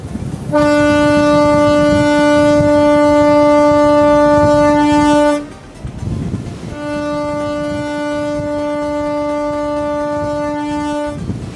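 A loud, steady horn-like drone with strong harmonics blares for about five seconds, drops briefly, then sounds again over a continuous engine rumble of a ferry boat running at full speed from Turkey to Lesbos.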